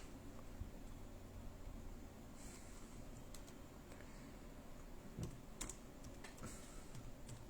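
Keys on a Dell Latitude E7240 laptop being typed during a keyboard test, heard as faint, scattered clicks and taps over a steady background hiss, with no talking.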